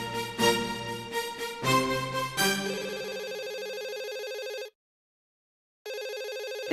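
A telephone rings in a home, loud and close, with several short bursts of ringing followed by longer sustained rings, a brief silent gap, then ringing again.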